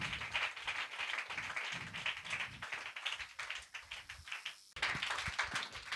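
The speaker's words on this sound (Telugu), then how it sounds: "అందరం చప్పట్లు కొడదాం" A church congregation at a Good Friday service clapping in rhythm, brisk repeated claps from many hands, moderately close, with a brief break before they resume.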